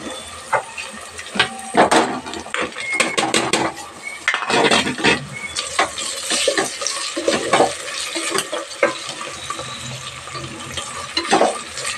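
Bitter gourd fries with softened onions in a pan, with a steady sizzle under repeated scraping and clattering as a metal utensil stirs it, close and fairly loud.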